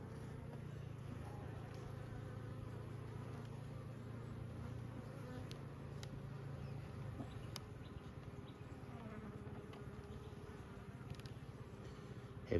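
Honey bees in small four-frame nucleus hives hum steadily at close range during a winter hive inspection, with a constant low buzz and occasional clicks and light knocks from frames being handled.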